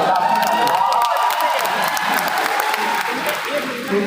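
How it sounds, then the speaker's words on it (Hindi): An audience applauds steadily, a dense patter of many hands clapping with a few scattered cheers, continuing throughout. "राधा के लिए ज़्यादा तालियां बज रही थी, रुक्मणी के लिए थोड़ी कम बज रही है।"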